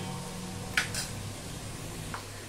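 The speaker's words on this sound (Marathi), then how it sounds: "हे बघा, बटाटा पण तळून घेऊया छान." Potatoes fry in a pan for navratan pulao with a faint, steady sizzle. A few sharp utensil clinks and scrapes sound close by over it.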